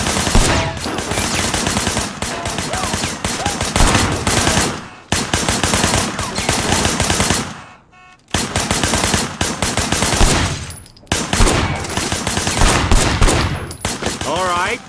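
Sustained gunfire in the video game Sleeping Dogs, from behind a barricade during a police mission: loud rapid bursts, nearly continuous across the clip, broken by a few brief pauses, with faint speech underneath.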